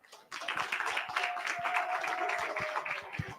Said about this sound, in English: A better applause.